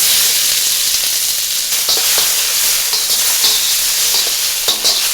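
Onions hit a tablespoon of hot oil in a pan for Chinese fried rice, giving a loud, close, continuous bright sizzle with a few light utensil taps.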